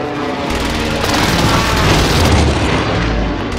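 An airstrike explosion in Call of Duty Warzone on Rebirth Island, a loud, sustained booming rumble that swells and rolls for several seconds before tailing off.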